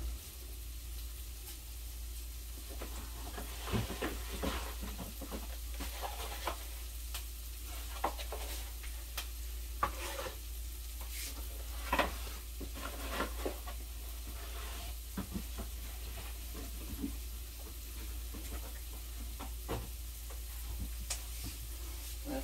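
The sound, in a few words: breakfast casserole ingredients sizzling in a pan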